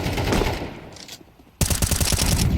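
Rapid automatic gunfire sprays in the video game Counter-Strike. A muffled burst fades out, then a sharp, loud stream of rhythmic shots cuts in and carries on steadily to the end.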